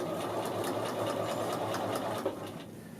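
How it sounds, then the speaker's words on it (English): A sewing machine runs steadily while stitching around the bottom edge of a men's shirt, a close, even mechanical whirr with rhythmic needle ticks that slows at the end. "sew around the bottom of the shirt, around the entire bottom of the shirt"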